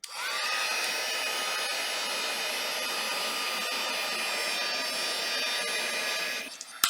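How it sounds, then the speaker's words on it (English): A small handheld air dryer blows hard at paint on stenciled craft blocks, a loud steady whir that runs almost the whole time and then clicks off near the end. "I love having that little air dryer"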